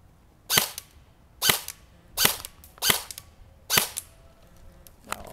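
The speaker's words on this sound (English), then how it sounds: "Here we have a little target set up, and I'll shoot on semi." A JG M4A1 airsoft carbine fires on semi-automatic at a target, five loud, crisp snapping shots spaced about a second apart, close to the listener with a low background hum.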